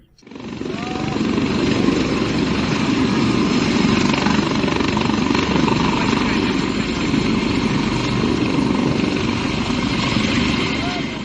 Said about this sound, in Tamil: தறிக்கிட்டு பறந்த ஹெலிகாப்டர்